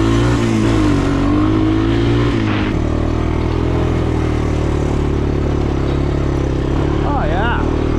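An old apocalypse-worn Ford truck engine runs loud and close, a rough steady idle rising into revs, with people talking over the engine noise.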